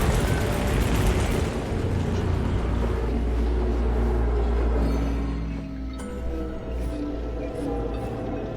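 An explosion in the video game Atomic Heart, heard as a heavy, continuous low roar and rumble that holds steady and then eases slightly toward the end, with no clear talk over it.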